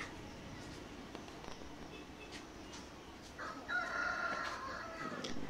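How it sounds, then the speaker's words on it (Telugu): A rooster crows on a winter morning in a village. One loud, drawn-out crow rises midway over a steady outdoor hiss, with fainter fowl sounds around it. "కోడికూతుతో అయితే మా డే మొదలైపోయిందనమాట."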